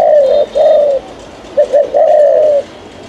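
A dove coos in a steady run of low, mellow calls, a couple of short notes then longer rolling coos, close and clear with no talking.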